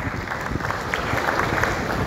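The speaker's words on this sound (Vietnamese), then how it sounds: "Xin quý vị hãy dành một tràng pháo tay thật lớn để chào đón diễn giả." A conference audience at the Cardano Summit 2023 in Hanoi applauding to welcome a speaker, dense sustained clapping heard steadily throughout at moderate distance.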